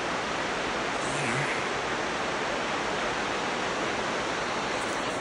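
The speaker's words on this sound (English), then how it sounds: "And that waterfall is right through there." A waterfall in snowy summer mountains, heard as a constant broadband rushing roar of falling water, steady and unbroken throughout, with no voices.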